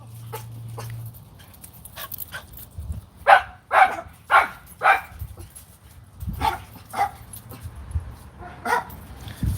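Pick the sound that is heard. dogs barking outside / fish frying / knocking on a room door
dogs barking outside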